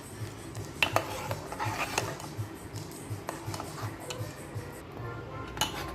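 Pistachio ice cream mixture being stirred in a pan as it comes to a boil, with soft, irregular scraping and clinking of a utensil against the metal, fairly quiet and close, a few sharper taps standing out.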